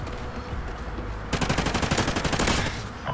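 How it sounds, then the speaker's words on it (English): Light machine gun fire in Call of Duty Ghosts: a loud, rapid burst of automatic shots starting partway through, continuous and close, following quieter game ambience. "And of course the guy has a LMG."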